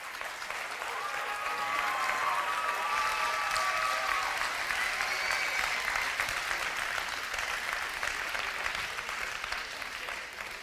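A French audience at an evening gathering applauds, a sustained roar of many hands clapping that holds steady for about ten seconds, with a few voices and cheers rising briefly over it early on.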